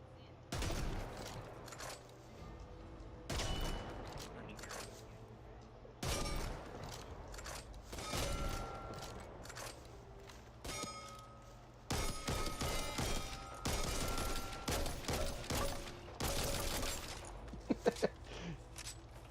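Weapons fired at the gun range in the video game Destiny, heard as repeated volleys of rapid shots broken by short pauses, fairly loud and close throughout.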